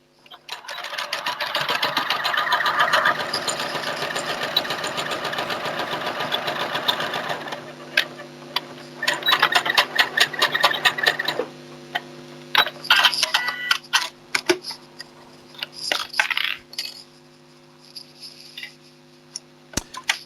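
A sewing machine stitches fabric with a steady, fast mechanical whir for several seconds, then stops and starts in shorter bursts with clicks and ticks between runs, close and clear with no talk.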